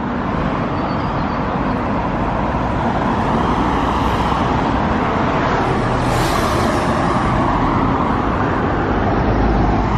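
Busy road traffic rolls by constantly, a loud close wash of car tyres and engines, with a couple of nearer vehicles swelling past, and no voices.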